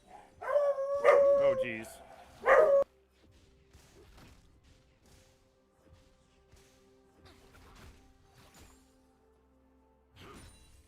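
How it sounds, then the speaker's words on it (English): A beagle lets out loud, drawn-out howls and barks up close, two strong bursts at the start and a shorter one near the end, with quieter stretches and a brief spoken exclamation between. "beagles have the loudest howl on the planet"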